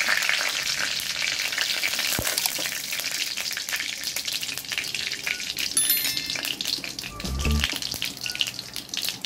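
Dried red chillies and black cumin fry in hot oil, giving a dense, continuous close sizzle with a few stirring clatters and a brief low thump near the end, with no voices.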